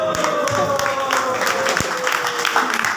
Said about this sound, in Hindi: इस पे तो सब तालियां बज गई।